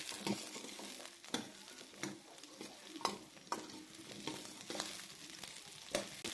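Whole tomatoes sauté in oil with a soft, fairly quiet sizzle and irregular spatula scrapes and knocks against the pan.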